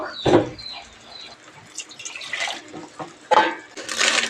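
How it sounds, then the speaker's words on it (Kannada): Water added to a thick palak paneer gravy in a pan, a few separate splashes and drips with short liquid pours, close and moderately loud. "ಗ್ರೇವಿಗೆ ನಾವು ನೀರನ್ನ ನೋಡಿ ಸೇರಿಸ್ಬೇಕು"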